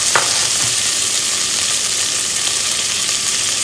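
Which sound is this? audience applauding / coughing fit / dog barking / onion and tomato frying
onion and tomato frying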